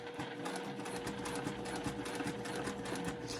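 A sewing machine quilts with thick 12 weight thread, its needle chattering in a fast, steady rhythm with a constant motor hum, close but fairly quiet.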